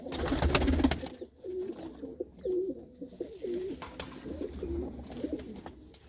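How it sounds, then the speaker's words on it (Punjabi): Several adult pigeons coo in low, repeated rolling phrases, close by, after a brief burst of louder clatter at the start. "ਇਹ ਤੁਸੀਂ ਜਿੰਨੇ ਵੀ ਕਬੂਤਰ ਦੇਖਦੇ ਹੋ"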